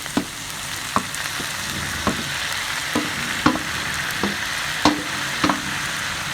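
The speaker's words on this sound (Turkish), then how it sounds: "Fasulyelerimi hafiften kavuruyorum." Green beans sautéing with onion and tomatoes in a pan give a steady soft sizzle, broken by a series of sharp clicks and scrapes from stirring, with no talking.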